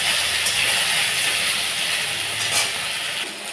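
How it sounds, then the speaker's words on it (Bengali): Elephant apple (chalta) pieces fry lightly in a pan, giving a steady, close sizzle and hiss with a few faint stirring scrapes. "হালকা হালকা ভাজা ভাজা করে নিচ্ছি।"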